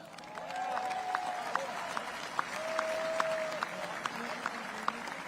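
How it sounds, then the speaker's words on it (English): A modest crowd applauds at a Belgian celebration in Brussels for the 250th anniversary of American independence, moderately distant clapping with some individual claps standing out. "they deserve a round of applause"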